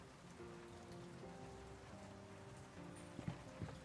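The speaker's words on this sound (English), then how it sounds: "The rain beats against the office window." Rain patters steadily against an office window in the World of Goo 2 game scene, a soft, even wash of drops with a couple of faint knocks near the end.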